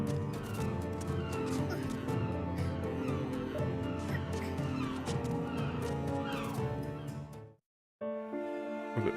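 Bird calls in the underwater-city adventure game Submerged: dense, layered calling and clucking over a steady ambient bed, continuous and fairly loud, cutting out briefly near the end before resuming.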